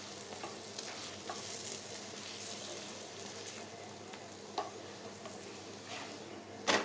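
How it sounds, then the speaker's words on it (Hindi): A bottle gourd paratha sizzles steadily in a hot pan, a soft continuous frying hiss with occasional light clicks and taps, close and alone without talk. "उलट पलट के पका लेंगे।"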